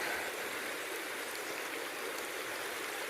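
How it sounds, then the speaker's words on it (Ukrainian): Steady broadband rush of a fast-flowing mountain river in the Carpathians running over rocks, continuous and fairly close with no voices. "Ми тут штурмуємо річку в брід."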